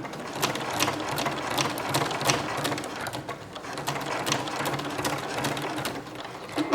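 A sewing machine fitted with a ruffler foot gathers fabric at a slow, steady pace, giving a continuous close mechanical whir with fine rhythmic ticking and clatter from the attachment throughout.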